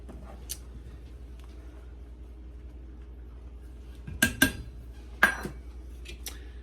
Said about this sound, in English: So I have my Danish whisk. I thought this would be really good to get it mixed in.